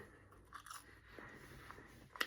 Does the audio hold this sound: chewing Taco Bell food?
yes